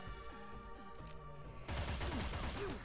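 Full-auto gunfire in Cyber Knights: Flashpoint erupts abruptly after a stretch of tonal game music, a loud, sustained crackling burst that runs to the end.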